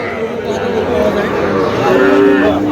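A bull calf of about one and a half months at a busy livestock market lows, its moos carrying over a dense, loud crowd murmur with voices throughout.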